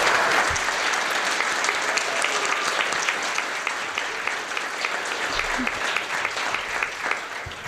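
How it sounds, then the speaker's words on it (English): Steady, loud applause from an audience at a graduation ceremony fills the whole stretch without a break, dense clapping and nothing else standing out. "Let's give our graduates another round of applause."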